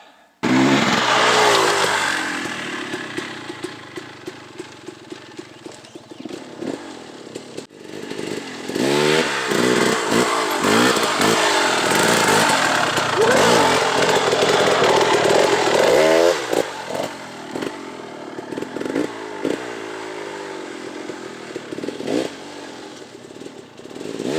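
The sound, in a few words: enduro dirt bike engine riding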